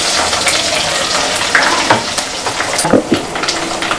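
Crushed garlic fries in hot tempering oil with chana dal, urad dal, mustard seeds and cumin for a chilli chutney. A loud, close, dense crackling sizzle continues steadily, with occasional sharper pops and no voices.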